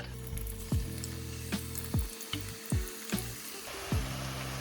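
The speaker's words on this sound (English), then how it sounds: "So this is oil that's at 350 degrees Fahrenheit. We're gonna fry these chips in batches." Batches of chips fry in hot oil at 350 degrees Fahrenheit with a steady sizzle, broken by several sharp clinks and knocks from a utensil against the pot.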